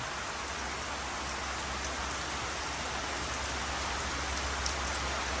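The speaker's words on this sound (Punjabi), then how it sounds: "ਪੂਰਾ ਜ਼ੋਰ ਨਾਲ ਗਿਰ ਰਿਹਾ ਉੱਪਰ ਤੇ ਮੀਂਹ" Heavy rain pours steadily onto a roof, a dense, even hiss with no breaks or voices, constant throughout.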